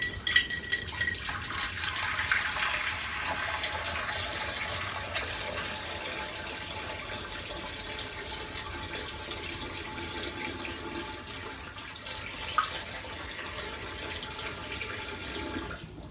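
Tap water poured into a bowl inside a fish tank, a steady gushing and splashing stream running continuously, close and fairly loud, with no talking.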